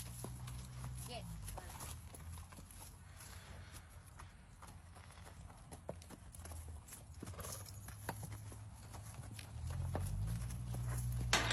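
Horses walk on hard ground near a farm gate, their hooves clip-clopping in irregular, fairly close steps, with a faint whinny and a low rumble under someone talking.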